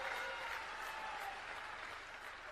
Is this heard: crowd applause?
yes